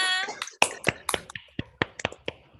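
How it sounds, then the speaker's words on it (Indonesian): Schoolchildren in a classroom clap in a few separate bursts of sharp, close hand claps with short gaps, after a voice. "berarti tepuk tangan untuk kita semua"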